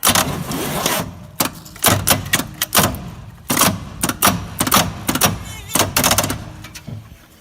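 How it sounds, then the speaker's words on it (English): A Chevy 250 six-cylinder engine in a 1965 Chevrolet pickup cranks over in a steady series of loud, chugging bursts, each turn marked by a sharp mechanical thump, with no speech. "The motor does turn over"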